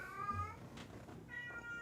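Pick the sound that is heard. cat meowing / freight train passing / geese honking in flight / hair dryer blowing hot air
cat meowing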